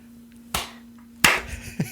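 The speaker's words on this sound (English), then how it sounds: "But we can still clap." A few scattered claps after a count, sharp and uneven rather than in unison: one at first, then a louder cluster and a final smaller clap, close by in a quiet room with a faint steady hum.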